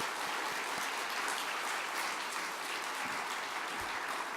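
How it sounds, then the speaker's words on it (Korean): A church congregation claps steadily to welcome four missionaries at a Sunday service, a dense, even wash of applause that holds for several seconds with no one speaking over it. "우리 박수로 환영하겠습니다"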